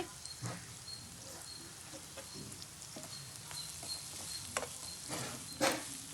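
Ridge gourd curry with fried dried prawns and cumin powder is stirred in a pan, giving soft scraping and a light sizzle with occasional spoon knocks, faint and close with no talking.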